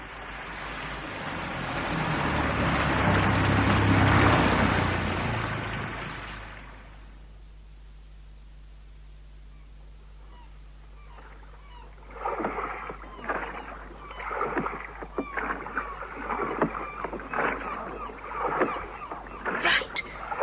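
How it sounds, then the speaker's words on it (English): Oars work a rowing boat through water, heard as a run of irregular splashes and dips in the second half. Before them comes a louder wash of rushing water that fades away, and no one speaks. "I think we can stop rowing now"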